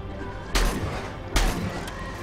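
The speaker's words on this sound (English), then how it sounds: "Let's try out the shotgun." Two heavy shotgun blasts go off in the StarForge video game, about a second apart, each a sharp loud boom over a steady game background.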